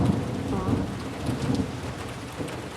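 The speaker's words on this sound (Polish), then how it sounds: "No i mamy deszcz, mamy burzę, przed chwilą się błyskała." Steady rain of a thunderstorm pours on a surface, a dense continuous hiss with low rumbling thunder beneath, moderately loud and without speech.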